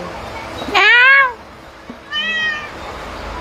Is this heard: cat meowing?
yes